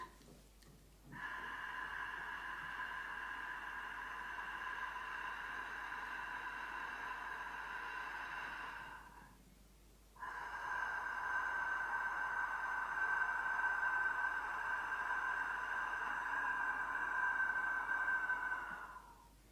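Two long, steady ujjayi breaths hiss through a constricted throat, close, soft and unvoiced, with a brief pause between them.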